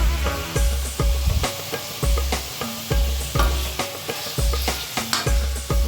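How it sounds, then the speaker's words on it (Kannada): Tomato and ground masala paste with salt frying in a pan for mutton curry, loud close sizzling broken by a regular rhythm of spoon strokes scraping and stirring, about two per second, with no speech. "ಪೇಸ್ಟ್ ಹಾಕಿದ ನಂತರ ರುಚಿಗೆ ತಕ್ಕಷ್ಟು ಉಪ್ಪು ಹಾಕಿ ಫ್ರೈ ಮಾಡ್ಕೊಳ್ತಾ ಇದ್ದೀನಿ"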